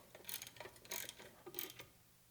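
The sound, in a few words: tightening down a bolt on a steel chunk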